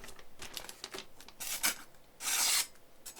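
A cleaver being sharpened on a 1000 grit whetstone, close rasping strokes in uneven bursts, with one longer, louder grinding pass near the end.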